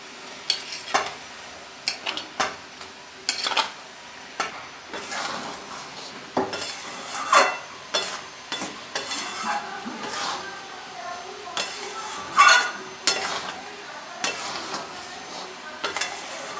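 Jujubes (kul) stirred in a pan for pickle: repeated metal spoon scrapes and clinks against the pan with faint sizzling underneath, in irregular bursts, while a person talks.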